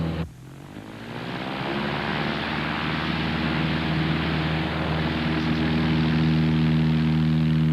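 Engine of a small single-propeller training airplane throttling up from idle on a takeoff roll, a steady loud drone with rising pitch and power that holds close and strong throughout.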